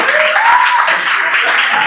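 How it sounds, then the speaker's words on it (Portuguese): A church congregation at a youth retreat applauds together, a short burst of crowd clapping with some voices and cheering mixed in at loud, close range. "Vamos aplaudir o Senhor pela vida dele"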